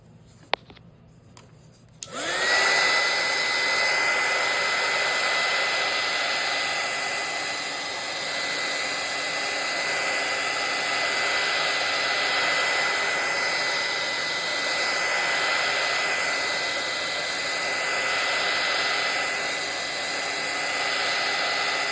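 A hair dryer drying paint on a journal background switches on after a couple of quiet seconds and then blows steadily and loudly, its whine wavering slightly as it moves.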